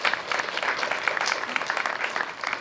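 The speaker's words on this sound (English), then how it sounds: "Give yourselves a round of applause" An audience at a rally claps steadily for a few seconds, a dense, even patter of many hands heard fairly close with no voice over it.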